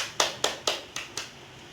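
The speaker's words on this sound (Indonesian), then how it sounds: "Tepuk tangan buat kita semua" Five sharp, evenly spaced hand claps from a Quran recitation class, close and moderately loud, each with a short decaying tail, followed by quiet room tone.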